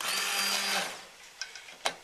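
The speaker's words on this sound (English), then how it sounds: "I've got the secret weapon right over here. It's called an immersion blender." An immersion blender whirs through a pot of carrot and garlic soup, a loud steady motor buzz for most of a second, then fading out, followed by a few short clicks and knocks as it is set down.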